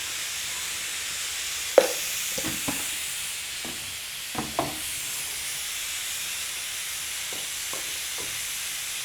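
Ground spice masala with coriander powder sautéing in a pan for broiler chicken gravy, a soft steady sizzle with a few sharp stirring scrapes and clicks scattered through, close and fairly quiet.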